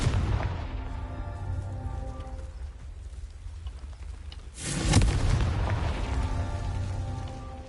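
A Confringo fire spell in Hogwarts Legacy detonates in one sudden loud blast near the middle, followed by a crackling, rumbling decay over game ambience.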